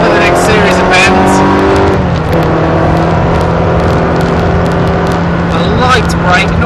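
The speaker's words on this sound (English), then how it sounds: "Bringing the car over to the left, accelerating up to 5th for the next series of bends." A Ferrari accelerating on the Silverstone race circuit, its engine note climbing steadily through the gears, loud and close and heard under steady talk.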